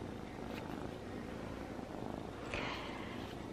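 A small kitten, about thirteen or fourteen weeks old, purrs steadily and softly up close, a continuous low rumbling with no talking.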